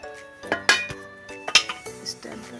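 A metal bowl of eggless cake batter is set onto a stand inside a pot of heated sand, giving a few sharp metallic clanks and clinks spaced irregularly, close and fairly clear.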